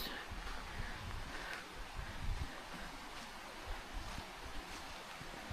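Faint, steady trickling water from a small stream at a campground, under light wind noise outdoors.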